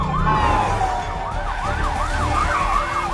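A loud siren wails up and down close by, cycling rapidly over steady traffic noise.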